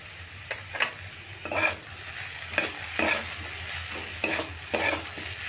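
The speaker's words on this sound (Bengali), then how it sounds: "এবার এইভাবে নেড়ে নেড়ে আমি দুদিনের মতো ভেজে নিচ্ছি" Papaya with chana dal and a sprinkle of Kashmiri chili powder fries in a pan, a spatula scraping through it in repeated strokes over a continuous close sizzle.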